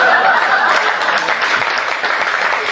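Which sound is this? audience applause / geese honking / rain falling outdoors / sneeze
audience applause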